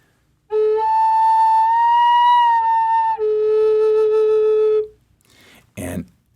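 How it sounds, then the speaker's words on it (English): A Native American flute with one finger hole left slightly open gives a screechy, wavering higher tone that drops to a steadier low note. The note stops abruptly, followed by a short burst of noise. "the slightest gap will create a screechy sound."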